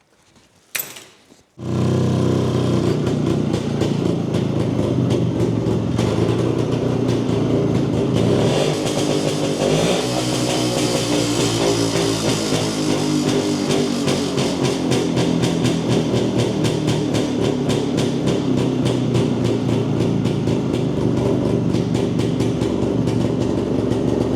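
Jawa 250 two-stroke motorcycle engine, repaired and updated, starts up and rides off: a steady, loud, buzzing exhaust drone that rises as the bike accelerates and then holds a continuous ringing tone, close at first.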